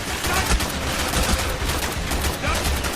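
Rapid automatic gunfire rattles in a Call of Duty Black Ops battle, loud, dense bursts overlapping continuously at close range, with voices shouting beneath the shooting.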